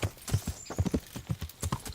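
Horse hooves gallop in the video game Kingdom Come: Deliverance, a quick, rhythmic clip-clop of repeated hoofbeats, close and clear with no talk over it.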